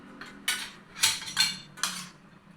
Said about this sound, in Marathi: हे मी मिक्स करते. बघा किती चांगलं मिक्स होते.